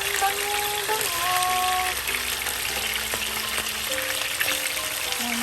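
Steady, dense sizzling of chicken frying in oil in a pan, continuous and close, with faint tonal hum and occasional clinks in the background.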